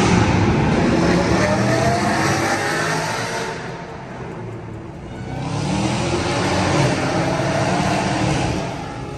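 Dodge Hellcat Redeye, McLaren 720S and BMW cars cruising together, a loud continuous roar of engines and tyres that swells, dips and rises again as revving cars pass close by.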